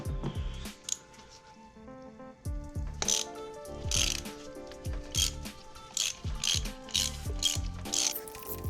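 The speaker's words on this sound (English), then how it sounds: "to remove the plugs from the engine, you're gonna go ahead and use a 5/8 socket for spark plugs" A ratchet with a 5/8 spark plug socket loosens the spark plugs on a Volvo T6 3.0L engine. It gives repeated bursts of sharp clicking, close and distinct, with short pauses between turns.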